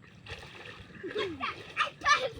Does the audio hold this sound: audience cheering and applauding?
no